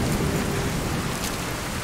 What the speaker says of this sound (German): das Gewitter an meinem Rücken.